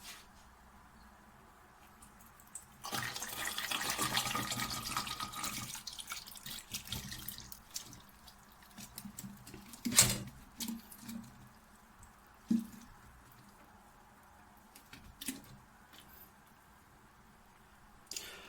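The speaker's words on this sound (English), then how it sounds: "I'm just going to empty them all out onto the strainer" Homemade organic apple cider vinegar is poured out onto a strainer, with a brief rushing pour followed by scattered splashes and drips. The sound is faint and fairly close.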